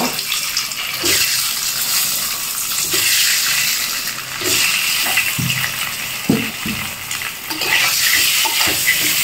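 Peeled boiled eggs fry in hot oil with turmeric for an egg curry, giving a steady, fairly loud sizzle with occasional scrapes and knocks of a spatula against the pan.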